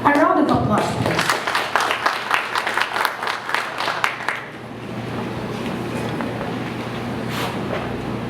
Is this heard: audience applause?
yes